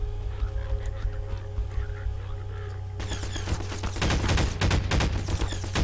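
Gunfire in the video game Half-Life 2: after a few seconds of humming background, rapid loud shots break out in a dense, sustained volley that continues to the end.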